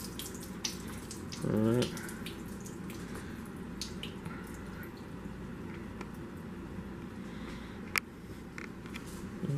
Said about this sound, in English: And then I rinse them a little to get some of the starch off.